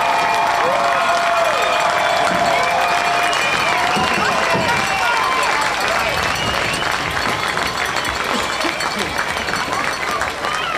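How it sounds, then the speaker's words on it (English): Stadium crowd at a high school football game applauds and cheers the honored 2008 state champion team on the field, a loud, continuous wash of clapping and cheering with voices and shouts mixed through it. "let's give the 2008 state champions a rousing round of applause"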